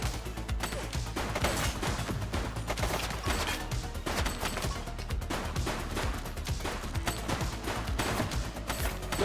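Sustained gunfire in The Precinct police game, dense rapid bursts of shots running throughout at steady loudness, with faint game sounds underneath and no talk.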